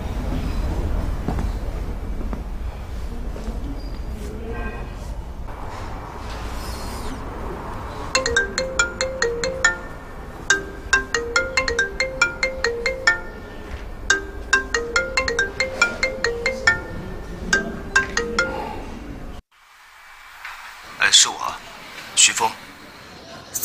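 A telephone plays a bright, repetitive electronic ringtone melody for about ten seconds. The ringing then cuts off abruptly, and people talk before and after it.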